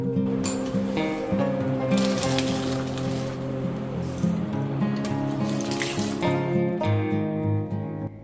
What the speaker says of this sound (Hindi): मैंने टैप वाटर से अच्छी तरीके से इसको वॉश किया है